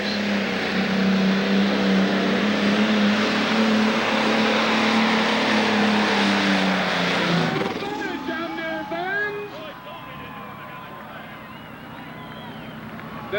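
Pulling tractor at a 1996 Illinois 10,000 lb Pro tractor pull roaring at high RPM as it drags the sled, a loud sustained engine drone that drops off toward the end, with an announcer talking over it.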